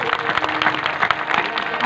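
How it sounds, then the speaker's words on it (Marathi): An audience at a devotional kirtan gathering clapping steadily and loudly, a dense rapid patter of many hands under a speaking voice. "या मुलींकरता एकदा जोरदार टाळी वाजवा बघा"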